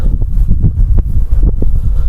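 Gusty outdoor wind buffeting a microphone on a cold-weather outing: loud, low rumbling blasts that rise and fall in uneven bursts, close and overpowering, with no voices over it.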